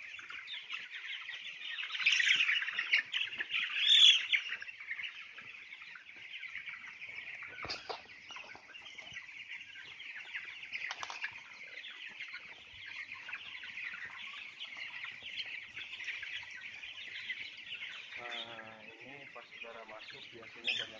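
Broad dense chatter of many broiler chickens inside a small 8x30 m closed-house shed, a constant clucking and cheeping wash with a few louder calls standing out.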